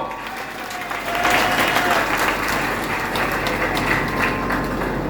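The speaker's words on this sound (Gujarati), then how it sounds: "માટે આખા ભારત દેશવાસીઓને તાળીઓથી વધાવો." An audience claps steadily at a Guru Purnima satsang at an ashram, a dense, continuous round of applause that swells after a moment and holds to the end.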